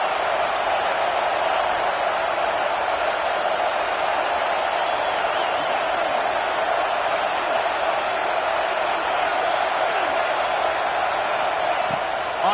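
Stadium crowd noise from the NCAA 26 college football video game forms a steady, loud roar of a packed crowd that holds evenly for the whole stretch, with no talk over it.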